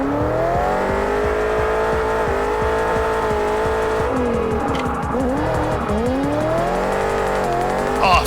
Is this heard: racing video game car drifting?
yes